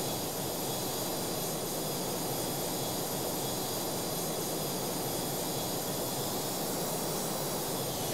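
EA-6B Prowler jet taking off in Strike Fighters 2, a continuous loud broadband roar of jet engines, steady and unbroken throughout.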